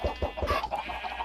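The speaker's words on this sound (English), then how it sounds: "We got some chickens, which need some eggs collected." Chickens in the PolyCraft video game clucking in quick, rhythmic bursts, several close clucks stacked one after another with no talk.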